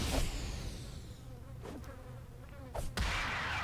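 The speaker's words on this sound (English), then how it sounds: "I thought I heard the mosquitoes or flies or whatever they are." Buzzing of swarming flies in the superhero video game City of Heroes, a steady droning hum with a few brief louder swells, heard alone without talk.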